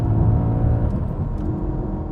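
Audi B7 RS4 with a naturally aspirated V8, a deep steady engine rumble heard close and continuous for a couple of seconds.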